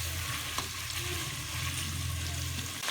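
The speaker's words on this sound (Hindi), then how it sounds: "इसको अब हम फ्राई करेंगे जब तक इसका कलर वाइट होता है" Half a kilo of washed chicken pieces fry over a medium flame for white biryani, giving a loud, even sizzle with a brief clatter near the start, close up and without voices.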